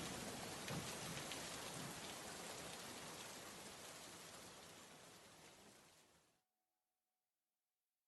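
Steady, dense rain pours down outside an open porch by the steps, a broad hiss close and full, holding for about six seconds before cutting off abruptly to silence.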